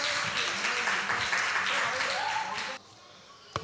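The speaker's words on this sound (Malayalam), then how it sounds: "ഒരു നല്ല കയ്യടി കൊടുത്താട്ടെ" An audience applauds at a church anniversary gathering: a dense, steady wash of clapping that stops abruptly near the end, followed by a quiet room.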